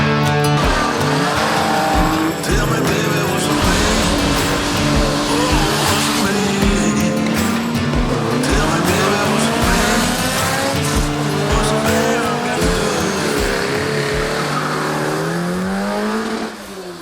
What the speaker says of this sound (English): just some cars going in the background because it's a race weekend